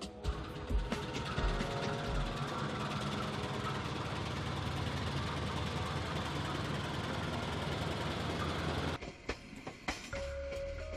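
A passenger train on the Jakarta to Cirebon line rumbles along with a steady, loud clatter of wheels and carriage noise that drops away sharply near the end.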